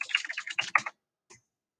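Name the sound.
typing a book title on a computer keyboard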